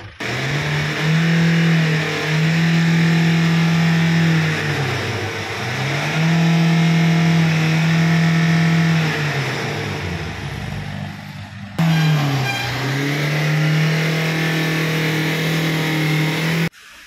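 A Nissan Micra with a white smoke problem revs repeatedly, its engine climbing and falling in several long, loud, close rises with a brief drop near the end, and no voices over it.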